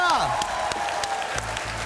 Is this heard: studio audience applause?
yes